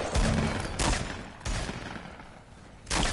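Sniper rifle shots in a video game, three or four loud sharp cracks spaced roughly every second and a half, each trailing off into a reverberant tail.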